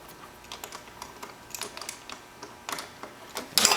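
Bolts on an axle are loosened with a tool, making a run of small, sharp metallic clicks and ticks at an uneven pace, fairly close, ending in a louder rasping burst.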